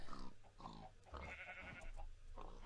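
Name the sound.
Minecraft farm animals: chickens, sheep, pigs, cows (video game)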